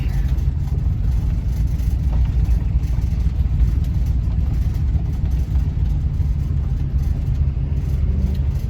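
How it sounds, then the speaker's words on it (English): A van driving along, its engine giving a steady, close low rumble and drone that holds evenly throughout with no talking. "let's go for a drive in the van"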